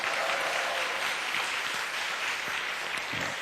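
An audience claps together for about three seconds, a dense, steady burst of applause heard from the crowd.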